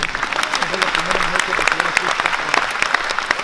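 A Catholic charismatic renewal gathering breaks into loud, dense applause that holds steady throughout, with voices audible beneath the clapping.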